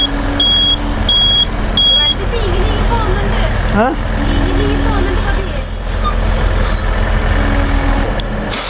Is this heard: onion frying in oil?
no